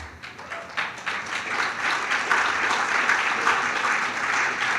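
An audience at a public lecture on plastic pollution breaks into applause, a dense, steady wash of clapping that swells and holds at an even level.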